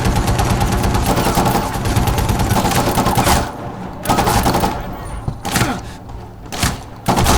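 Dense gunfire from the video game Medal of Honor Warfighter, with rapid automatic bursts, heavy thuds and brief lulls between volleys, loud and close throughout.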